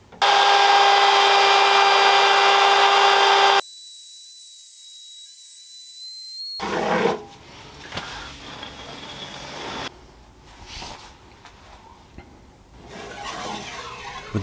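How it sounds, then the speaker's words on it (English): A router carves the track of a wooden speargun barrel, first as a loud high whine, then a cutoff, followed by intermittent close grinding and scraping of the bit against the wood. "Now it's time for my second attempt of carving the barrel, this time opting for a router instead of the CNC machine."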